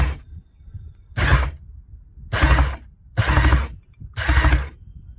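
A Yamaha Wave Venture 1100 jet ski engine is cranked over in four separate bursts, each about half a second long. Each burst is a loud, close mechanical whirring with a ratcheting texture, and short quiet pauses fall between them.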